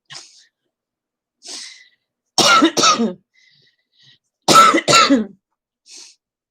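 Two loud, close sneezes a couple of seconds apart, each a sharp doubled burst, with faint breaths and small noises in between.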